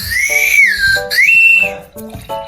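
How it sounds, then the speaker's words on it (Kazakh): A candy whistle blown in short bursts, a bright, shrill, sliding tone that rises and falls, loud and close, with a brief pause near the end before a final short toot. "Вау, достар, ысқырады екен."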